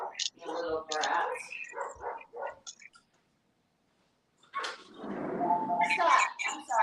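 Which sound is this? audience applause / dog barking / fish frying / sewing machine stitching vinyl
dog barking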